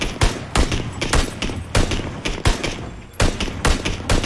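Rapid bursts of gunfire in the battle royale shooter PUBG, loud repeated volleys and single sharp shots close up, with brief gaps between the bursts.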